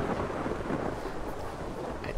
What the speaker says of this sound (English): And now there's rain.